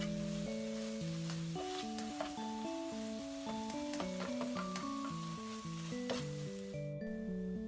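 Kimchi stir-fried with chili powder in a hot pan gives a steady, close sizzle with light stirring, partly buried under continuous melodic background music; no one speaks.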